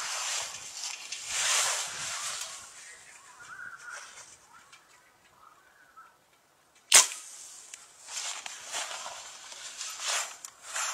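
A compound bow shoots an arrow at a small can at the edge of woods, with one sharp, loud snap of release standing out against outdoor wind, distant birds and a quiet voice.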